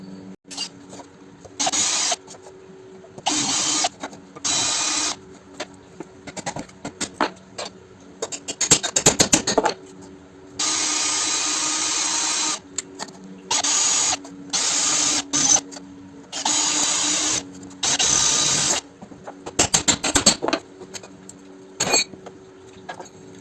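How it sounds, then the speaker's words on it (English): A power drill whines and grinds into stainless steel rivet heads on an old fruit juicer in repeated short bursts, stopping and starting again and again, close by with no talking. "I'll get the drill out and drill the rivet heads off"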